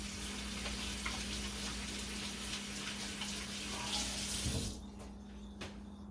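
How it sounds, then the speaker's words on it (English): A kitchen tap runs steadily while a hand is rinsed under it, a close hissing stream with a low hum beneath, then it shuts off near the end, leaving a quieter room. "Rinse my hand."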